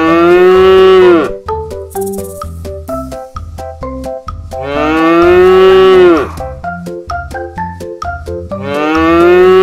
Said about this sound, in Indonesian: Nama hewan dan suara binatang sapi.